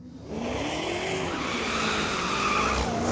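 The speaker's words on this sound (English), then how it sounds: "Having a little bit of traction troubles on the line without a good burnout." A street-legal drag racing car spins its tires at the launch line at Mission Raceway Park, a loud, sustained squeal over a roaring engine that rises and holds for about three seconds.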